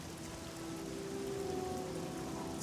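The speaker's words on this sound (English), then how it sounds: "So I shouldn't be surprised that it's raining." Rain falling over a swamp in The Elder Scrolls IV: Oblivion, a dense, even hiss of drops with a faint tonal hum beneath, no voices.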